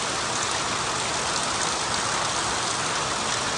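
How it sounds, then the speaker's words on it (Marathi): Steady, dense rain falls in a village, a loud even hiss of drops on surfaces with no pauses and no voices throughout. "आता पाऊस पडत राहू दे"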